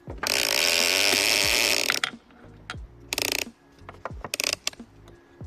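Ratchet strap cinched tight to compress an ultra-light rooftop tent: a long buzzing ratchet run, then several short bursts of clicking ratchet pawl, close and distinct with pauses between.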